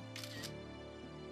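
A camera shutter fires once as a selfie is taken, a single short bright click near the start, heard over a steady low hum and background tones.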